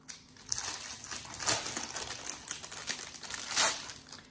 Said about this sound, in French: maintenant, je déballe le petit carnet